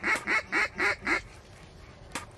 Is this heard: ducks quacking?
yes